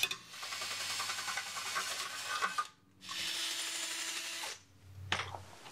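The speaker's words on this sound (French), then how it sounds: "Ensuite, je perce des trous correspondant à l'entraxe des fixations des sièges de la Mercedes." A power drill bores holes in a metal mounting plate for the seat fixings of a Mercedes 190E 2.5-16, with two sustained, close grinding bursts separated by a short pause and a brief final whir.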